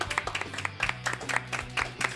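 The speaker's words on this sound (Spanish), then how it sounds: "Un aplauso para ellos, por favor, cerveza tribal." Scattered applause at a live stage comedy and impersonation show, led by a beer sponsor mention: a few separate claps build into lighter, uneven clapping from a small crowd, fairly quiet.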